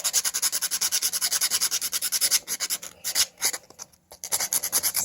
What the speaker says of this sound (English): Sand down the points.